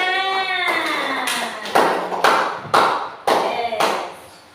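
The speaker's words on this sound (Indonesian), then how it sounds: "Beri tepuk tangan." Several short bursts of hand clapping from a classroom group during an Islamic religious education lesson, following a sustained tonal ring, each burst fading before the next.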